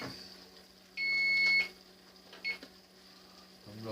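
A cooker timer is set to 11 minutes while pork adobo cooks, producing one sustained electronic beep followed by a shorter beep over a quiet kitchen hum.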